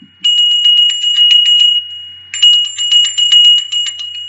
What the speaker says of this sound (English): offer this circle and the larger circle a purification with the bell of Oshun